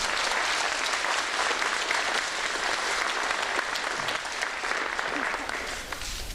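A crowd at a fire department recruit academy graduation ceremony applauds steadily, dense sustained clapping filling the room for several seconds with no voices on top.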